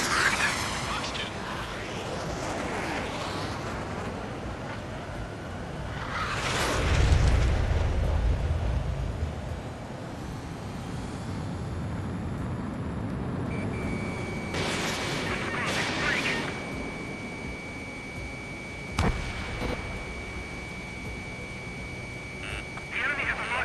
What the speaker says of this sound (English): Mage 1 launching missile.